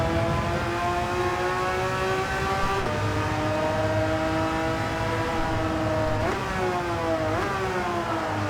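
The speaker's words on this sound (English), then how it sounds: "Car sliding through there." Race car engine in the video game Gran Turismo 7, a Cayman GT4 at Mount Panorama, holds a steady loud drone with pitch shifts as gears change and the car slides, with no talk.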